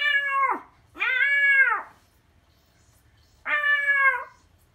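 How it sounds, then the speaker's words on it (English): A cat meows three times, loud and close, each call drawn out and falling in pitch, with short silent gaps between against a faint low background hum. "he should be responding to the meowing"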